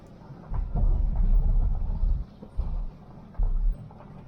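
A car drives slowly into Cox's Boatyard on the Barton Broad dinghy trail, heard as a low rumbling of tyres on an uneven surface that swells and drops in bursts, close by with no talk.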